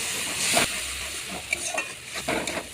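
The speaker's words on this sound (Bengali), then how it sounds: "এই পোস্ত সর্ষে বাটা আর এটা হচ্ছে কাজু বাটা দিয়ে ভালো করে নেড়ে নেবো" Poppy-mustard paste and cashew paste masala for a prawn malai curry is stirred in a hot pan, a close, steady sizzle broken by several scraping strokes of the spoon.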